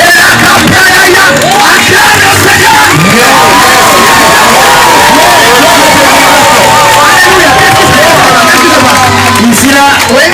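A church congregation at an evangelism campaign cheers and acclaims the Lord, a loud, dense crowd roar of shouts, whoops and babbling voices that stays close and sustained throughout.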